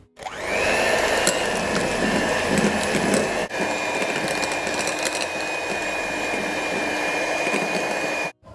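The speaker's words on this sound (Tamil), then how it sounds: "இந்த ரெண்டுத்தையுமே நாம் ஒரு 3 நிமிஷத்துக்கு நல்லா பீட் பண்ணுங்க." An electric hand mixer beats butter and margarine together for a fruit cake batter, a steady whirring motor drone with a faint mechanical rattle running continuously at close range with no talk.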